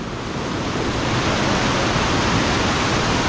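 Waterfall rapids rush in a loud, continuous broadband roar of churning water, close to the microphone and steady throughout with no voices.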